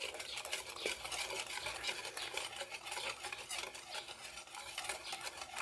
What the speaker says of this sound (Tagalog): Haluin natin muna siya ng maigi mga BFF.